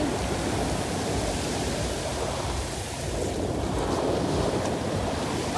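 Loud broadband surf from big sea waves rolls in continuously, a steady roar of crashing water with some wind rumble throughout, no voices.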